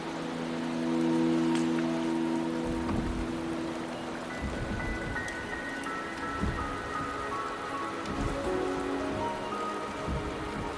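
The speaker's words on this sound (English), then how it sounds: "The rain is subsiding, and the sky will soon clear." Steady rain falls across the landscape of the video game Wuthering Waves, a dense even hiss with scattered drop patter and faint tonal ambience beneath, fairly close and constant throughout.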